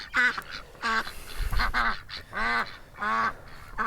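Ducks on a smallholding give several loud, nasal honking quacks in separate bursts, close to the listener, with a short low thump partway through.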